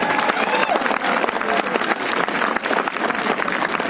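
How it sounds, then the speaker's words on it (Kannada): An audience at an award function at Ramoji Film City claps in a dense, sustained wash of applause, loud and steady throughout, with faint crowd noise underneath. "ಒಂದ್ಸರಿ ಗಟ್ಟಿಯಾಗಿ ಚಪ್ಪಾಳೆ ನೋಡಿ"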